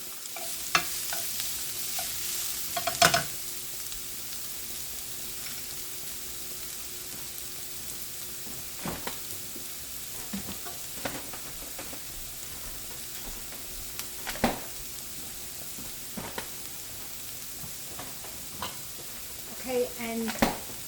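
Onions softening in a pan, a low continuous sizzle with a faint hum beneath and scattered spoon scrapes and knocks against the pan at irregular intervals, quiet and close.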